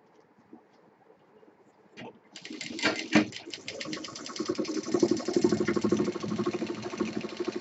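A sewing machine stitches piping onto a shoulder bag, starting after a couple of seconds of quiet with a fast steady mechanical chatter close by, under faint background talk.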